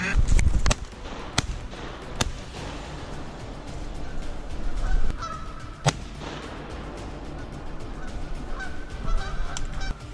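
Wild geese honking in the open during a hunt, a loose chorus of repeated calls rising and falling over a steady outdoor background, with a few sharp thumps and no clear talk.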